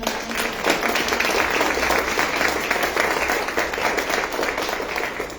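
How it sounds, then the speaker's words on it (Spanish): A crowd at an official dictionary presentation applauds steadily, dense clapping that holds at an even level throughout. "Aplausos, por favor."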